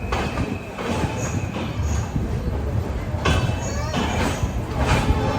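Visakhapatnam to Korba Express pulling out of Visakhapatnam station, a steady broadband rumble of rolling coaches with rhythmic wheel clatter and occasional brief metallic squeals, close and continuous.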